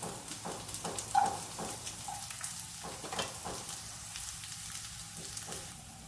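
Capsicum, green chilli and onion fry with mushrooms in a hot pan, giving a steady, close crackling sizzle with a few light clicks of stirring.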